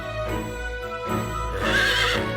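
A horse in the video game Fire Emblem Warriors Three Hopes gives a loud, rising whinny with a bright squealing peak near the end, set over a steady game-music backdrop.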